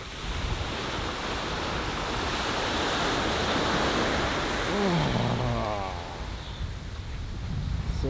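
Ocean waves wash onto a beach as a continuous broad roar of surf, with wind buffeting the microphone and a faint voice briefly in the middle.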